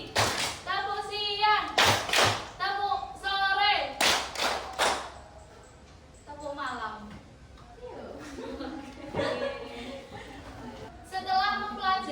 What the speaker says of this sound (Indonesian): Ayo, tepuk pagi